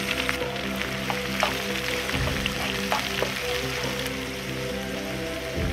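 Steady sizzling and crackling of sliced onions frying in hot oil with garlic and ginger in a pan for a chicken curry, a continuous close hiss with faint stirring scrapes.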